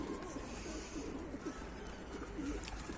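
Pigeons coo softly in a Bursa loft, a faint low burbling repeated through a steady noisy background, with no talk.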